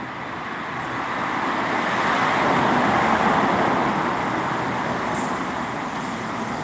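An X3 bus arriving amid road traffic, a broad continuous roar of engines and tyres that swells to a peak midway and then eases slightly, fairly loud and steady with no voices.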